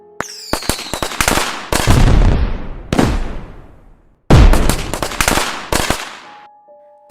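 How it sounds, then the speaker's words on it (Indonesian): A large firecracker exploding in a cassava garden at night, a rapid string of sharp loud cracks and booms, each ringing out briefly, with a pause before a final heavy bang and fading echo. "Suara petasan yang besar meledak di tengah kebun singkong"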